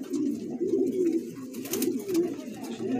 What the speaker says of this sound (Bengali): এখানে এক জোড়া ব্ল্যাক বাগদাদি হুমা কালো